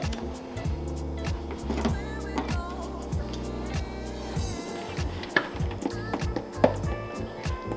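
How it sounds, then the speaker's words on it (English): Clear plastic headlight housing on a Subaru WRX is pried forward slowly, giving close creaking, squeaking plastic strains and sharp clicks and snaps in an irregular rhythm. "get behind the clear plastic and kind of pry it forward slowly so that you don't bend the housing out of shape completely"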